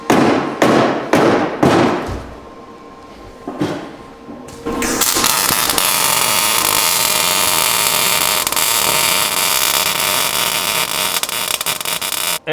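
Welding fresh new metal onto a Porsche body panel during a Lykan Hypersport replica build: a few sharp crackling bursts, then a steady loud buzzing hiss of the weld arc that runs on without a break.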